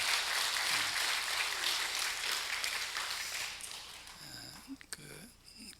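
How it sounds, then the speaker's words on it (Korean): A church congregation at early morning worship applauds for nursery, kindergarten and daycare teachers: dense clapping for about four seconds that thins out, followed by scattered close sounds and a voice beginning to speak. "여러분 다시 한번 크게 박수 한번 해주세요"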